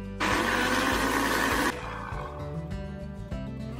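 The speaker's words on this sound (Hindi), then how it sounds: "हम आम को 1 मिनट के लिए मिक्सर में ग्राइंड कर लेंगे।" Electric mixer grinder blending cut mango pieces into pulp without water, a loud dense whirring roar for about a second and a half that then cuts off, leaving low rumbling handling noise.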